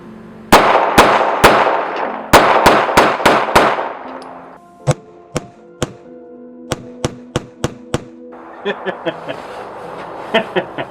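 SIG P938 pistol shots fired outdoors at night, a rapid string of loud, sharp cracks with ringing tails, then a further series of quicker, clipped reports trailing off.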